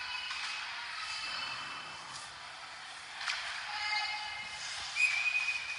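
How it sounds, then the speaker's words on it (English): Referee's whistle at an under-18 ice hockey game as the puck is frozen, a short shrill blast late in the clip standing out over steady arena crowd noise. "Whistle goes as the puck is froze"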